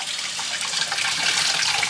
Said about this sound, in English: rinsing this out until the water stops turning blue